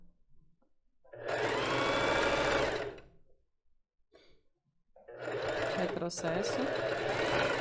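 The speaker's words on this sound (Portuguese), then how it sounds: "E vamos costurar até o final." A sewing machine stitches a lace bra in two sustained, loud runs of rapid mechanical whirring separated by a short pause, with someone speaking between and over the bursts.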